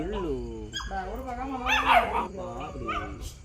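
A dog whimpers and gives short yips and barks close by, its wavering cries mixing with a person talking affectionately over it.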